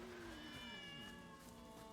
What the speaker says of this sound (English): Got a couple Bengal cats in here.